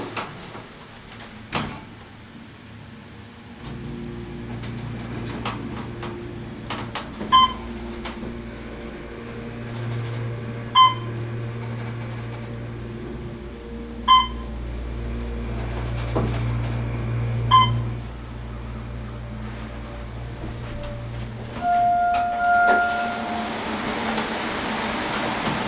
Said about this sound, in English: Today we're riding the Atrium elevators at Lodge of Four Seasons